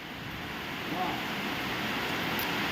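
Heavy rain and strong wind roar as a steady, dense wash of noise throughout, loud and continuous with no break.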